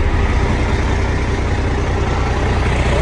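A truck's heavy engine runs in a loud, steady, rumbling idle close by. The low drone is continuous with no talk.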